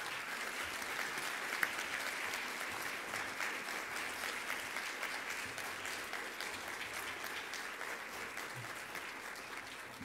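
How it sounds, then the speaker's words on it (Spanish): A steady wash of applause from an audience at a legal negotiation lecture, fairly distant and even throughout, with no voices standing out. "Un fuerte aplauso para ellos"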